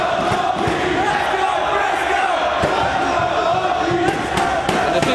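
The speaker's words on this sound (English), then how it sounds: "there you hear the crowd totally into both men" Crowd at a Ring of Honor wrestling show, Death Before Dishonor, roaring and chanting steadily throughout in a dense, loud wash of voices with shouted cheers rising out of it.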